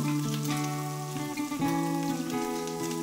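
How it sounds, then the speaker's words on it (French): Lardons browning in a casserole pot give a steady, dense sizzle of hot fat, continuous and close with no voices, against a constant low tonal background. "je commence à faire revenir mes lardons dans ma cocotte"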